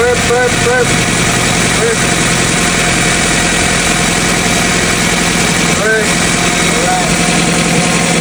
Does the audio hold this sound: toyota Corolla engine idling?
yes